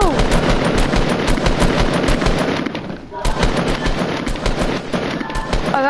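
Shotgun and other gunfire from the Fortnite video game, rapid loud bursts of shots in dense repeated volleys with a brief lull midway.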